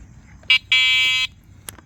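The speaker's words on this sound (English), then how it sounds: "That was the horn on the bike." An electric bike's horn gives a short electronic buzz followed by a longer steady buzzing tone, loud and close, then quiet.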